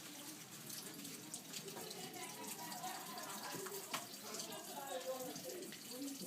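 Tap water runs steadily into a denture cup as it is rinsed out, a soft continuous splashing stream, close but quiet, with no voices.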